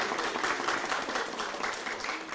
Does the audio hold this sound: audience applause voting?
yes